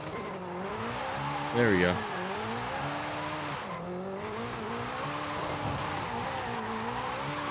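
A car drifts in the Forza racing game, its engine revving and whining in wavering pitch while a sharp tire squeal bursts out briefly near the start, with a person talking over the play.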